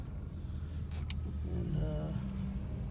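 Classic car making about 100 horsepower, cruising around the block with a steady low engine rumble close by from start to finish; no one speaks over it.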